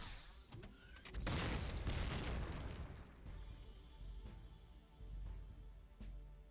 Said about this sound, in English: Two grenades.